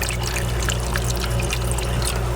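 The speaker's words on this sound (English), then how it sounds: "Add some water." Water pours steadily into a rock tumbler barrel filled with rocks, a continuous loud splashing rush with no pauses and no talk.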